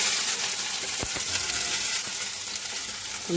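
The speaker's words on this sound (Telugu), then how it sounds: "ఆయిల్ బాగా హీట్ అయిన తర్వాత కట్ చేసుకున్న ఆనియన్స్, పచ్చిమిర్చి, టమాటా ముక్కలు పెట్టుకొని ఆయిల్ హీట్ అయిన తర్వాత అవి వేసుకోవాలి." Onions, green chillies and tomato frying in hot oil, a continuous crackling sizzle with a couple of sharp utensil taps and clinks.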